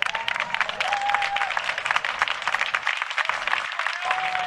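A crowd at an outdoor rally against hunting applauds, a dense, sustained clapping that stays loud throughout, with a few whistles cutting through it.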